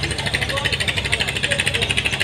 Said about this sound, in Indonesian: ini kapal ketek, kalau di Palembang disebut ketek